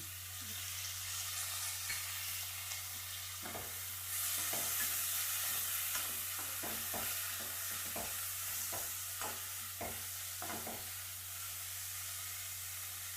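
Green peas stirred and fried in ghee for Karnataka-style ghee rice: a steady low sizzle under a series of regular scraping spoon strokes against the pan, close and fairly quiet.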